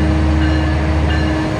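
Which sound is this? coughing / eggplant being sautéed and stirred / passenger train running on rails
passenger train running on rails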